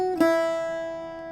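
An Irish bouzouki plucks a short opening group of notes on the first string, with one firm pick attack early and the strings ringing on and slowly decaying, close and unaccompanied.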